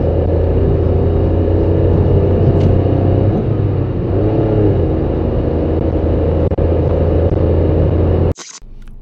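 Hyundai Getz with a 1.1-litre engine accelerating up an autobahn on-ramp, a steady loud engine drone and road rumble from inside the car, rising slightly in pitch, then a brief clatter near the end.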